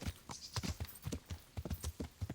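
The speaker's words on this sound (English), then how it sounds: "Mount horse." Horse hooves clip-clop steadily at a brisk walking pace on a road in the medieval video game Kingdom Come Deliverance, close and clear, with no talking.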